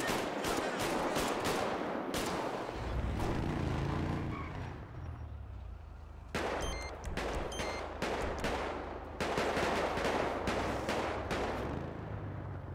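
Video-game gunfire rings out in dense, loud bursts of rapid shots, breaking off midway and then resuming in sharp volleys over a steady low engine-like rumble.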